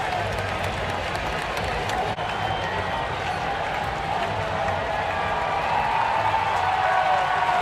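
A baseball stadium crowd roars and boos as a player is ejected, a broad sustained wall of noise with scattered clapping and cheering, while a broadcaster talks over it.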